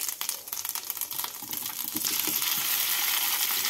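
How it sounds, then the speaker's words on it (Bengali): Potatoes frying with cumin seeds and grated ginger, a close, dense sizzle under rhythmic scraping and stirring that settles into a steady, louder hiss in the second half. "আলুগুলোকে দিয়ে 2 মিনিট মতো নাড়াচাড়া করে নিচ্ছি।"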